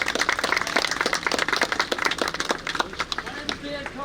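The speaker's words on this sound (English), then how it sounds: "Have another round of applause for Lenny." Crowd applause at an outdoor anti-drug-abuse walk rally, a burst of close, dense clapping that thins toward the end, with voices talking over it.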